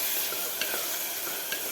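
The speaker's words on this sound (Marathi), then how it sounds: "आता टोमॅटो सुद्धा आपल्याला सॉफ्ट होईपर्यंत परतून घ्यायचं आहे कांद्याबरोबर" Tomatoes and onions sauté in oil inside a pressure cooker for pav bhaji, a soft continuous sizzle broken by occasional scraping stirs.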